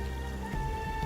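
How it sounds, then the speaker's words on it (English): Steady rain patters down in the video game Genshin Impact, a soft, continuous wash of falling drops with a faint sustained musical tone beneath, and no voices. "It's raining cats and dogs here."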